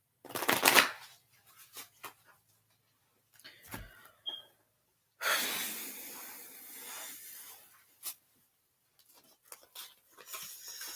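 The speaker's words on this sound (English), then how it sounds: "This is what happens if you shuffle cards too much." Tarot cards shuffled in several quick riffling bursts, crisp and close, with soft taps and pauses between them.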